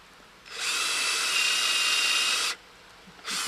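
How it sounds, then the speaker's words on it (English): A power drill with a small bit bores into a maple tree for sap tapping. It gives a loud, steady whine for about two seconds, stops, then starts again briefly. "So the first thing you do is take a drill, the small bit on it, and you want to drill the start of a hole at a slight angle down"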